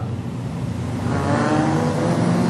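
Modified sedan race cars run at Maryborough Speedway, a steady engine drone that swells and builds toward the end, heard from a distance with no talk.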